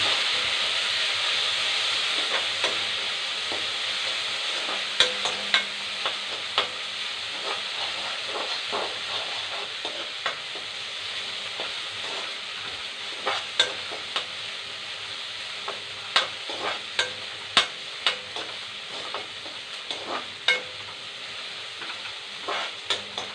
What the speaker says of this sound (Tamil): இப்போது தக்காளி போட்டு நல்லா வதக்கலாம்.